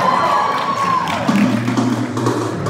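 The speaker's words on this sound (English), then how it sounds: "Make some noise." Audience at a live hypnosis stage show cheers and claps for volunteers posing as bodybuilders, a mixed crowd roar with a rising voice-like whoop early on, fairly loud and sustained.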